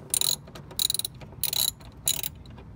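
A ratchet works a 10 mm bolt loose while a voltage regulator is replaced on a classic Fiat 500, four quick bursts of sharp clicking separated by brief pauses.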